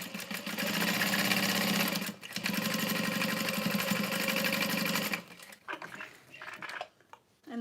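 A sewing machine stitches a seam around a leather square for a bag, running in a loud, steady close-up burst for about five seconds before stopping, followed by a few brief handling clicks and shuffles.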